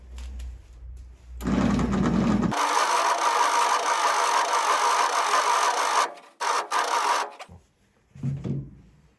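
A small engine with its choke partly closed and starter fluid added cranks outdoors in the cold, a loud sustained churning that stutters and sputters out after several seconds, followed by quieter knocks.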